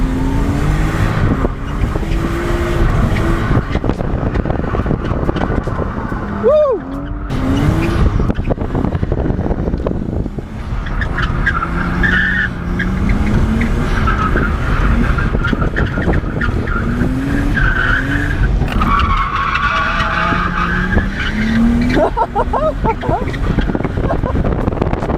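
A car drifting on a track with its tires skidding and screeching in long wavering squeals over a loud engine roar, close and continuous, with people talking intermittently.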